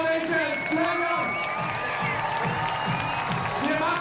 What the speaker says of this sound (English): This is your applause. Standing ovations.